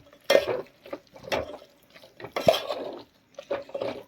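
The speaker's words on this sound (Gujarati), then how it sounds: "હવે બધી જ વસ્તુને સરસ મિક્સ કરી લઈએ" Gujarati undhiyu of fried vegetables and fried dumplings being mixed in a pan, with irregular clattering spoon strokes and scraping against the metal in short bursts, close by and without talk.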